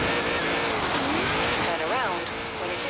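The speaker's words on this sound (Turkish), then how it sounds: "Büyük bir drift donuyor." Car engine in a racing video game wails through rising and falling revs as the car drifts, with tire squeal woven in, while someone talks over it.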